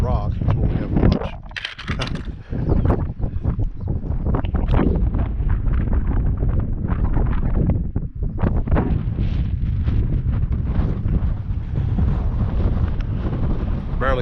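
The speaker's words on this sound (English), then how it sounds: "Barely keep my cap on, the wind's blowing so hard." Strong wind buffets the microphone on a high-country hike, a constant loud rumbling roar with gusts, while someone talks through it throughout.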